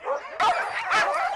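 Sled dogs in the Russian Far East yip, bark and whine eagerly as a dog sled is prepared, close and loud, with overlapping high-pitched whimpers and two sharp bursts of barking.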